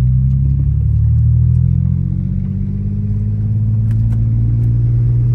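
A 2001 Mercedes E320 sports package sedan driving, its engine a steady low rumble with a constant road drone, loud and close throughout with no talking.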